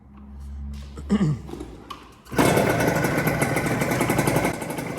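A Derbi moped engine is started after low idle-like rumble and brief clatter, then catches and runs loud and steady with a buzzy two-stroke drone close by; no talk.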